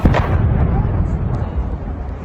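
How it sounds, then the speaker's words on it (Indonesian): Loud explosions from an Iranian missile and drone strike in Erbil, Iraq, a heavy blast at the start followed by a deep, rumbling roar that slowly fades. "Ledakan besar juga terdengar dari dekat konsulat Amerika Serikat di Erbil,"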